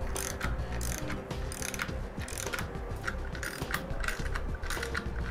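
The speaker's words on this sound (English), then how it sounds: "I got an 11/16 socket with a ratchet." Ratchet with an 11/16 socket snugging the nuts on a trailer axle brake assembly, giving a steady run of close mechanical clicking and ratcheting that carries on without pause throughout.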